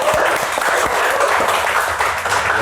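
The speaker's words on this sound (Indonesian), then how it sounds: "Oke, tepuk tangan." A small group claps together in a casual indoor gathering in Bali, close and loud, with quick uneven individual claps blending into brief applause.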